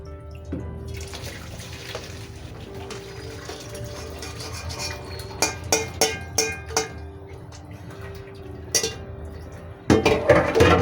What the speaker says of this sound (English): Rinse the pot.